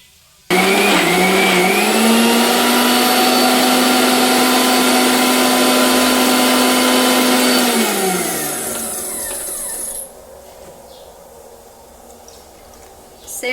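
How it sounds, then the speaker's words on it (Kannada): An electric mixer grinder whirs loudly, blending leftover set curd to make butter, a steady high-pitched motor roar that runs for about seven seconds, then winds down and stops, leaving a quieter hum. "ಇನ್ನೊಂದು ಸ್ವಲ್ಪ ಇದೆಯಲ್ಲ ಹೆಪ್ಪು ಅದನ್ನಿಷ್ಟು ಮಿಕ್ಸಿ ಮಾಡ್ಕೊತೀನಿ ನೋಡಿ"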